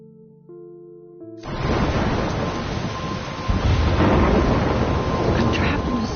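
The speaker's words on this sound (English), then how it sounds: "I'm trapped in a storm?" A thunderstorm in the video game Life is Strange breaks in suddenly after a brief tonal musical passage, becoming a loud, dense roar of rain and rumbling thunder that swells further midway and continues steadily.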